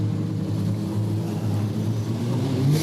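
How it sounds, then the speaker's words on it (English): A speedway race car engine runs steadily and loud throughout, a continuous low droning roar with a slight rise at the end. "Car sounds all right this time around."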